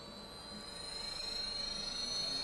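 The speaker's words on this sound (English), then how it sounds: "an air-cooled spindle." Air-cooled CNC router spindle running at 25,000 RPM in a woodworking shop, a steady high-pitched whine with a faint airy hiss, rising slightly in level, alone.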